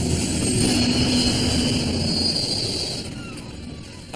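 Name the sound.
airplane losing altitude and falling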